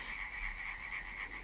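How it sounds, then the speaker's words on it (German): Frogs croak in a radio play, a steady chorus of close, rasping calls that pulse and overlap continuously without any talking. "Ich aber soll die Frösche hören."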